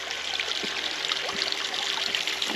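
Water trickles and splashes steadily over rocks, a continuous bright babbling flow with no voices, close by.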